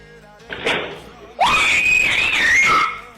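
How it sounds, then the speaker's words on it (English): A woman lets out a loud, piercing scream that rises sharply and holds for nearly two seconds, preceded by a brief fainter cry. "Did that woman just scream a rat to death?"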